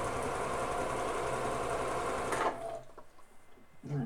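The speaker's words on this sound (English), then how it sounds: "I'm just gonna make some noise with my sewing machine" A sewing machine running steadily with a fast, even mechanical whir for a couple of seconds before stopping abruptly, followed by quieter room sound and faint handling noises.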